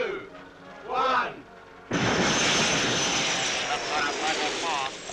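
Rocket engine ignition at launch in a 1977 comedy, bursting into a loud sustained roar after a short voice, and holding steady with faint talk underneath.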